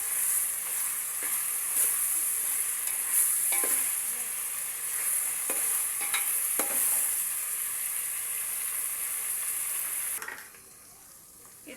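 Ginger garlic paste and onions sizzle steadily in a hot pan while being stirred, with a few brief scrapes of the spoon; near and continuous, the frying hiss drops away abruptly toward the end.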